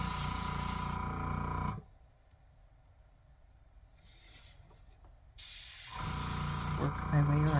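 Airbrush spraying air over alcohol ink dropped on Brusho paint, a steady close hiss that cuts out for several seconds mid-way before resuming at full strength.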